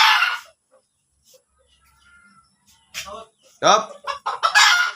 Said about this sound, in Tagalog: Magandang labuyo yan mga katropa.